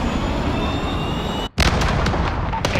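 A missile strikes in a military combat video game, a heavy blast that breaks in after a moment of near silence and rumbles on with loud, broad-band debris and crackling.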